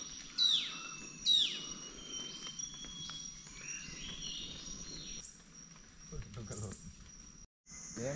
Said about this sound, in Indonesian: Suara-suara burung.